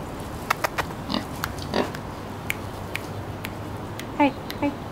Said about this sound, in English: I like to pet pigs.